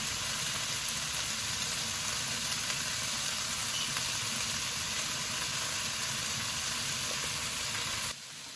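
Chili sauce hitting a hot frying pan gives a steady, loud sizzle that hisses evenly for several seconds, then drops off abruptly near the end.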